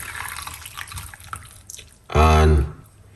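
Parsley and lemon tea is poured off, a brief loud splashing pour of liquid near the end after quieter background sounds.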